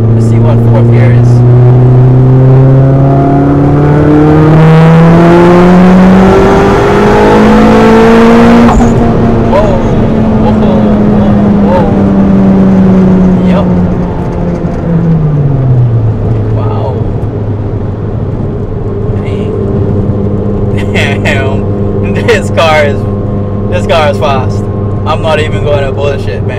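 A 500-horsepower Mitsubishi Evo X pulls hard through fourth gear, its engine note climbing steadily, then dropping sharply at a shift and settling into a lower drone. The car is loud and close throughout, with some faint talk mixed in.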